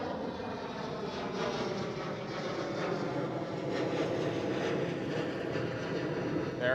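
A German Airways Embraer E190 jet at Amsterdam Schiphol gives off a steady, moderately distant engine roar with a whining tone, gradually building in loudness.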